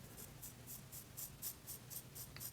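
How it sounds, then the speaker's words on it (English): A sharp folding EDC knife, a Civivi Vision FG, shaving arm hair: a quick series of soft, crisp scraping strokes in a faint, even rhythm, heard alone and close. "it is cutting a good amount of hair right there"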